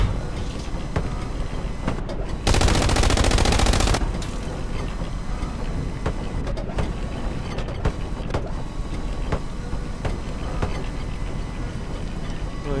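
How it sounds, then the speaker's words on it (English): Bursts of machine gun fire in a WWII-style warfare shooter game on the Kursk map, a dense, loud rattling stretch of about a second and a half amid scattered distant gunshots and mechanical battle noise. "I'll hit this guy like once with the MG"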